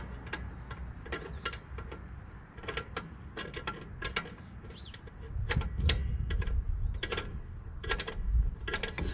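The brake adjusting star on an early 80s GM drum brake is turned, giving a run of quick, close ratcheting clicks in irregular bursts under a low rumbling background.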